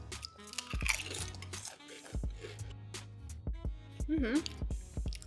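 Plain potato chips are crunched and chewed up close, irregular crisp crackles mixed with mouth sounds while people talk and murmur throughout.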